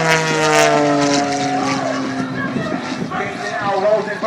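Propeller aerobatic airplane in a flat spin, its engine droning with a wavering, shifting pitch as it descends, heard under loud continuous commentary.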